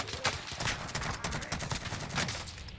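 Rapid bursts of gunfire in Warzone rattle almost continuously, loud and close, with shots overlapping in dense volleys.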